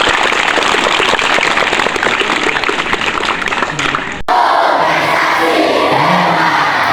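New students at a school orientation clap and cheer together in a dense, loud burst of hands that cuts off abruptly, then leaves a noisy room with voices murmuring.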